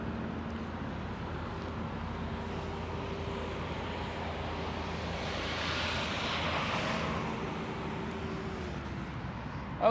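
An aircraft engine at Schiphol airport roars at a distance, a broad steady rumble that swells in the middle and fades again over a windy outdoor background.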